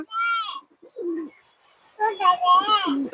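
Pigeons calling in short bursts with quiet gaps between them, a low throaty coo among higher warbling notes, close by.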